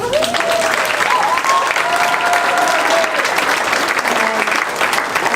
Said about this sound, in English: I would like to give a round of applause for our 8th graders